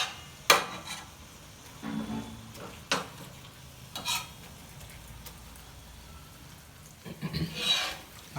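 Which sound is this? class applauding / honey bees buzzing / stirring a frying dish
stirring a frying dish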